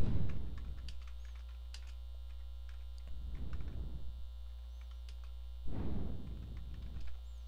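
Typing on a computer keyboard while entering slide text in PowerPoint 2007, heard as three separate short bursts of soft clicking over a steady low electrical hum.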